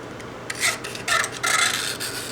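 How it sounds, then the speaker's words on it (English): Metal pick scraping around inside a Triumph motorcycle's oil filter housing, a few short gritty rasping strokes with brief pauses between them, close and fairly quiet. "So I'm just running the pick around"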